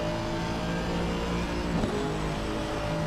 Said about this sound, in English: let's go on board with the Aston because I want you guys to hear how good that engine sounds